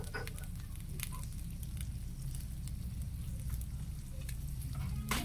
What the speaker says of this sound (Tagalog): Sprite na natin siya pakuluan.